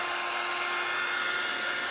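Steady, loud hair dryer blowing continuously up close, a constant whooshing drone with a faint motor whine, used to dry a homemade bird-nest picture frame.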